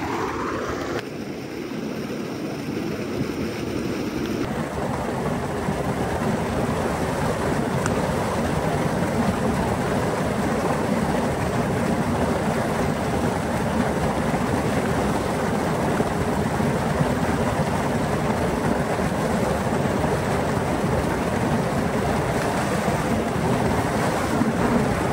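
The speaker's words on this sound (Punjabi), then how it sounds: "ਇੱਥੇ ਕੋਈ ਨਾ ਕੋਈ ਨਾ ਟਿਊਬਵੈੱਲ ਚੱਲਦਾ ਪਿਆ ਹੋਵੇ, ਮਾਸ਼ਾ ਅੱਲਾ ਚੱਲ ਰਿਹਾ ਸੀਗਾ" A tube well in rural Punjab pumps a continuous stream of water, a loud steady gushing rush heard close up with some wind noise, unbroken from start to finish.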